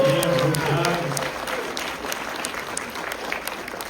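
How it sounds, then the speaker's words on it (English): Theater audience at a film screening breaks into applause, loud at first over a brief voice, then thinning into scattered clapping that fades steadily. "Big round of applause for Roadside Attraction."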